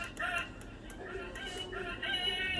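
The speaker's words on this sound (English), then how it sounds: "turn up the rooster sound." A faint, tinny rooster crowing ringtone plays from the small speaker of a Physen wireless doorbell, with soft clucking tones and a low background hum.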